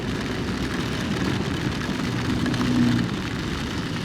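Heavy rain drumming on a car while driving on a highway, a steady dense hiss of rain over low road and engine rumble, loud and continuous with no voices.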